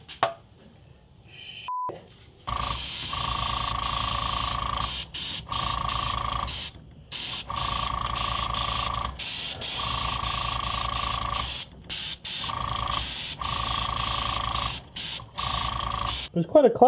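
A spray can of primer paint hisses loudly and continuously in long bursts with brief pauses between them, close up, after a short quiet start with a beep.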